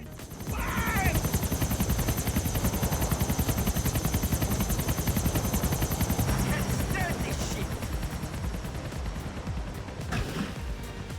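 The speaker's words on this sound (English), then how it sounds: "Niko has to climb into the helicopter that little Jacob is flying" A helicopter flown by Little Jacob during the Out of Commission mission in GTA 4 throbs with a steady rotor chop. Game sounds and crashes break through it now and then, and a voice talks over the top.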